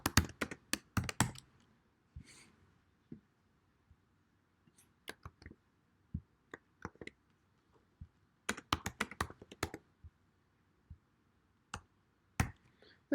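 Bursts of quick, sharp key clicks on a computer keyboard, close and fairly quiet, with scattered single taps and pauses between flurries of typing.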